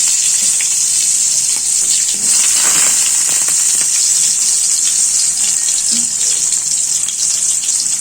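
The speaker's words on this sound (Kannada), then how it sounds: "ಇವಾಗ ಈರುಳ್ಳಿ ಏನು ಹೆಚ್ಕೊಂಡಿದ್ನಲ್ರಿ ಆ ಈರುಳ್ಳಿನ ನಾನು ಹಾಕ್ಕೊಳ್ತೀನಿ." Chopped onion fries in hot oil, making a loud, steady hiss and sizzle that continues evenly throughout with faint clatter of a utensil.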